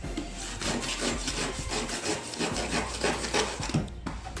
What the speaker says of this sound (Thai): เราใช้เลื่อยนี่เลยเห็นป่ะ